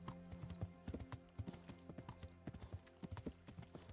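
Horse hooves gallop in a steady, rapid clip-clop rhythm in the medieval game Kingdom Come: Deliverance, loud and close, with no talking over them.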